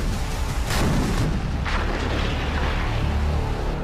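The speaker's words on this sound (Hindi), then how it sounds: "जब कहर बरसता है गोलों का, गोले दिखाई नहीं देते हैं कहाँ से आ रहे हैं" Artillery shells fire and burst in a dense, continuous roar of rumbling booms, with a couple of sharper blasts standing out early on, loud and unbroken throughout.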